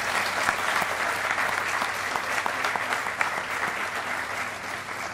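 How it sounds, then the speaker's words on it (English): Steady audience applause filling a change of command ceremony for the U.S. Army Corps of Engineers Honolulu District, dense even clapping from a large crowd with no break across the whole stretch. "let's give them a round of applause for everyone behind the scenes"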